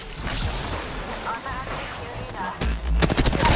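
Rapid automatic gunfire from the Apex Legends battle royale game, dense bursts over a steady noisy bed, with sharper, louder volleys near the end and voices talking underneath.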